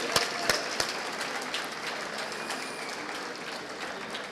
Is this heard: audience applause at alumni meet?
yes